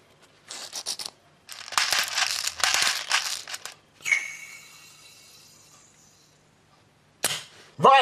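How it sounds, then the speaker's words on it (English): Green gas is charged into the magazine of an Armorer Works HX2001 custom Hi-Capa airsoft pistol and BBs are loaded, giving bursts of hissing and crinkly clicks, a fading hiss, and a final sharp snap at the end. "the first thing I need to do is to fill the mag with some green gas, which you do right here, and uh, put some BBs in"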